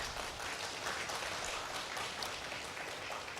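A congregation at a church service claps steadily, a dense and even burst of applause filling the room from start to finish.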